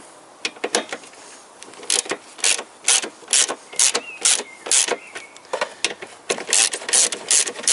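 Hand ratchet wrench loosening engine mounting bolts on a Toyota Corolla with a VVT-i engine, a rapid series of sharp metallic clicks in bursts of a few strokes each, close and loud, with brief pauses between bursts.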